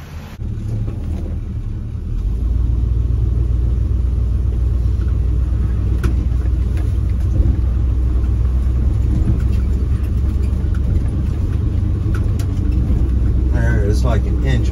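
A 1959 Chevy Apache J10 pickup engine rumbles steadily while driving, a loud continuous low drone with road noise that swells after a couple of seconds and holds throughout.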